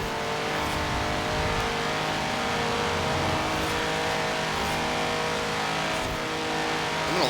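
A C-Class car in the racing video game Forza Horizon 4 held at redline, a loud continuous high engine whine with no talk.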